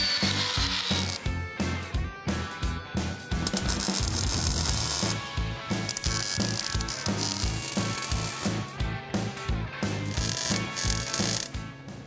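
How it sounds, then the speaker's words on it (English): A drill boring a mounting hole for a Jeep bracket at a fabrication table gives a close, loud, rhythmic mechanical chatter with repeated clicking bursts. "Back at the fab table, I can drill our mounting hole."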